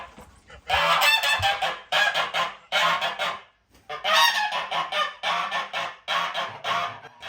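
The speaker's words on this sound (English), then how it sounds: "We have Emden geese that act as guards for the ducks, and what they do is they squawk, squawk, squawk, honk, honk, honk" Emden geese on an orchard farm honking loudly and close, a rapid series of harsh repeated honks in bursts with a brief pause midway, no voices.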